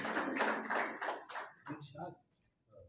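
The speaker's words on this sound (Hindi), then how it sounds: "बहुत सारी तालियां।" An audience at a poetry mushaira in Islamabad breaks into a short burst of dense applause that fades after about a second and a half, followed by someone speaking.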